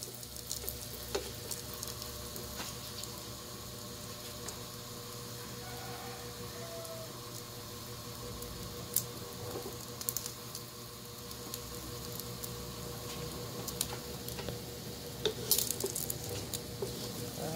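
A ham and cheese sandwich dipped in egg fries in a pan with a steady low sizzle and occasional crackles and pops, continuous and close with no talking.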